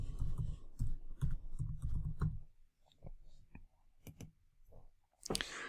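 Mouse clicks in Power BI on a computer, a handful of sharp, close clicks spread across a few seconds, with soft voice-like murmur in the background early on.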